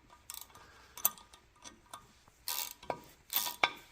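A 7/16 inch wrench working a fitting on a knee mechanism during disassembly gives quiet, irregular metallic clicks and ratcheting ticks, with a few sharper bursts near the end and no talking.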